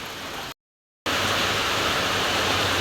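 Heavy rain pours down in a steady, dense broadband roar, loud and continuous, broken once by a short total dropout before resuming at full strength.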